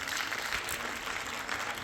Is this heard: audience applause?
yes